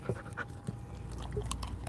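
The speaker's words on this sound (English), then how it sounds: "Got a dog" A rescue dog pants close by in steady quick breaths, with a few brief yips or whimpers over a low background hum.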